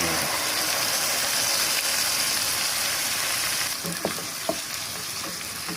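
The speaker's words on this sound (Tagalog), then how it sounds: "para ilalagay ko na lang siya sa kawali" Marinated beef liver sizzles loudly and steadily in a pan, a dense continuous frying hiss that eases slightly midway, with a couple of sharp utensil clinks near the end.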